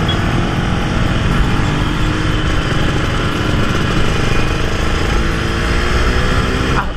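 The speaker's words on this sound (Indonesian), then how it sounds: "ini mesinnya halus banget, nggak bohong gue" A restored 1991 Suzuki RG Sprinter motorcycle engine runs during a test ride, giving a loud, dense, continuous buzzing roar that holds steady throughout, without talk.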